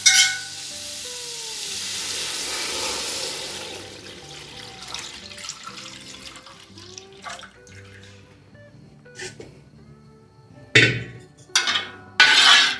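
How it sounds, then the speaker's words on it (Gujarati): Milk poured over bottle gourd sautéed in ghee makes a loud rushing pour that fades into soft bubbling, followed by a few scattered clatters and utensil knocks near the end. "આપણે એને ઘીમાં સાતડ્યું છે અને હવે આપણે દૂધ નાખીએ છીએ"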